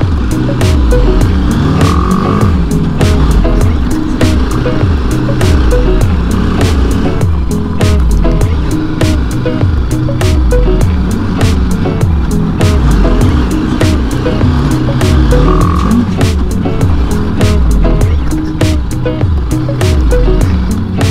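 BMW G310 GS BS6 motorcycle ridden off-road over rocks, its engine droning loudly and steadily with rhythmic revving pulses, heavy rumble and jolts throughout, close to the microphone.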